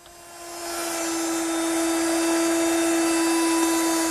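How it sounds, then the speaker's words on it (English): An oak top edge is chamfered with a router fitted with a chamfering bit: a high, steady whine that rises as the tool spins up, then holds constant, close and loud, with no talking. "I'll do that using my router with a chamfering bit"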